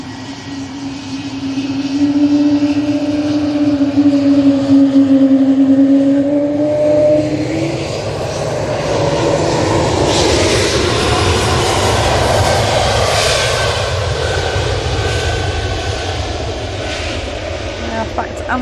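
An airliner passes during plane spotting at Manchester Airport, its engine roar with a rising whine building and holding loud throughout, while people talk over it.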